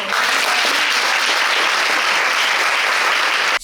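An audience at a girls' STEM camp event bursts into loud, sustained applause, a dense wash of clapping that stays steady for a few seconds before cutting off.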